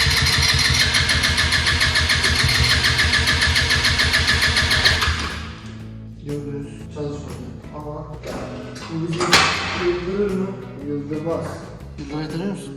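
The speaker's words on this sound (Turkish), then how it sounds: "Bence tek seferde çalışmayabilir. Marşa basıyorum." A Kymco Agility 125 scooter's electric starter cranking in a fast rhythmic whir for about five seconds, then the engine catches and idles unevenly with light revs, close, with someone talking over the idle.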